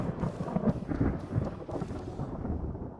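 Thunder rolls through a naval battle in Ultimate Admiral Dreadnoughts, a loud, continuous low rumble lasting throughout with no voices over it.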